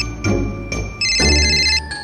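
A phone ringtone in a family comedy skit, an electronic melody that plays in short bursts, then sustains louder for about a second before it cuts off. It is clear and nearby, and no one talks over it.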